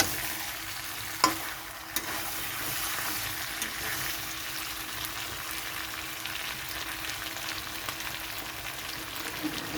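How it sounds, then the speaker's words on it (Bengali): Chicken for Bengali chicken kosha stir-fries in oil in a kadai as the oil separates, giving a continuous soft sizzle with occasional stirring scrapes and a couple of sharp clinks near the start. "কষাতে কষাতে বুঝতেই পারবেন কড়াইয়ের গায়ের থেকে তেলটা চলে আসছে, তাহলে জানবেন হয়ে গেছে চিকেনটা কষানো"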